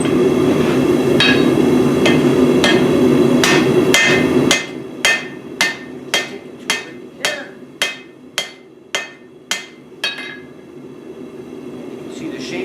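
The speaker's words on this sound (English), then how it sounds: "I use this top puller incorrectly as a hammer." Metal hammering with a top puller used as a hammer: a string of sharp, ringing strikes, loosely spaced under a background hum at first, then about a dozen evenly paced blows alone.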